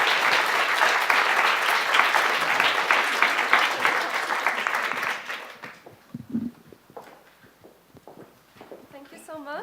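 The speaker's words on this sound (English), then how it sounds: "I would like to ask for a warm applause for this excellent panel" Warm audience applause for a conference panel rings out loud and dense, then thins to scattered claps and fades as a speaker starts talking.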